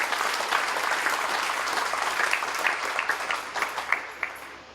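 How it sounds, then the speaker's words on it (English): A graduation ceremony audience applauds the graduates, a dense, steady wash of many hands clapping at close to moderate distance, continuing for the whole stretch with no talk over it. "Give our graduates a round of applause this afternoon."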